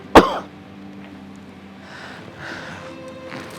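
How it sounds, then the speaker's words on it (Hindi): A single sharp, loud cough bursts out near the start, followed by quieter throat-clearing sounds and faint rasping breaths in an indoor setting. "खांसी उठ रही है।"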